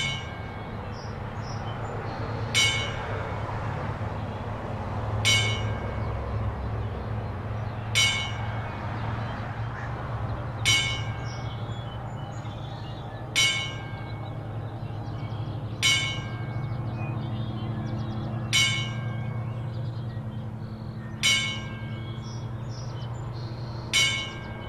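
A bell rings ten times in a ten-bell salute, single clear strokes about two and a half seconds apart, over a low steady background hum with faint chirping.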